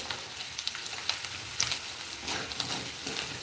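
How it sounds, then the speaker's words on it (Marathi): Boiled potatoes sizzle in a pan for sabudana khichdi, a steady crackling fry with scattered sharper pops and stirring scrapes, close and moderately loud with no voices. "बटाटा आपला फ्राय होतो"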